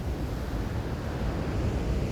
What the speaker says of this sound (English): You can see where the waves have come up here too.